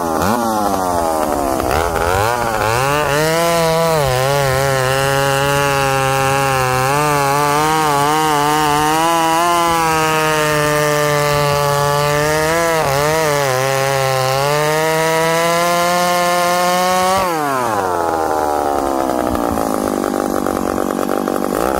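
Old ported McCulloch chainsaw fitted with an Oregon ignition chip, running loud and close for about seventeen seconds, engine pitch rising and wavering with throttle before dropping off sharply.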